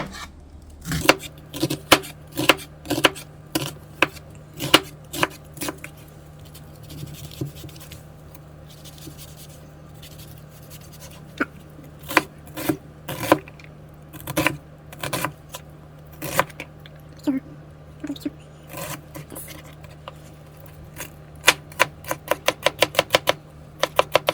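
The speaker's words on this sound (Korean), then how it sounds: "양파는 다져줄게요" Onion being finely minced with a kitchen knife on a cutting board, a long series of sharp, close taps in bursts that speed into a rapid run at the end, with no talking.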